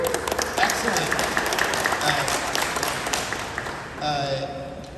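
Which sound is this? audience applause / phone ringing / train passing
audience applause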